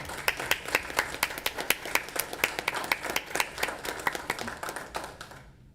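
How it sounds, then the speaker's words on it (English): A room full of people applauds township volunteers at a local meeting, with brisk, uneven hand claps holding steady for several seconds before fading out at the end. "please give me a hand in giving them a round of applause"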